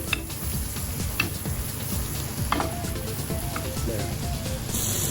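Pig's trotters sautéing in a pan, a continuous steady sizzle with occasional clicks and scrapes, close and even in level throughout.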